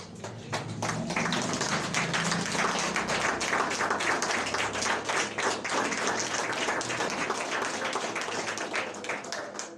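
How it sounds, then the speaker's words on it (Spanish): A church congregation claps steadily for the Lord, a dense, sustained run of many hands close by at moderate level, with no cheering standing out. "¿Cuánto le dan un aplauso al Señor?"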